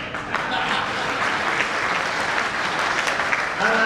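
Audience at a poetry event breaks into sustained, even applause, dense clapping from a sizable crowd that holds steady throughout.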